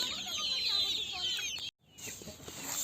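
Chickens on a farm cluck and chirp in a steady, busy stream at close range, with a brief dropout partway through.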